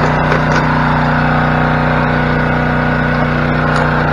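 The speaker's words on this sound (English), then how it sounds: "Sorry about the loud noise, but Ron's putting his very first bucket through the Gold Hog." A Gold Hog Raptor Flare high-banker runs on its engine-driven pump while processing a bucket of creek gravel outdoors: a loud, steady motor drone with a pulsing throb and rushing water, continuous and close, with no talk.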